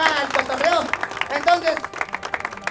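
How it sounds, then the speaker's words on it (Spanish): Crowd clapping for a sponsor at a street dance contest, brief bursts of applause mixed with loud voices and a steady music beat underneath. "un aplauso para mi carnal"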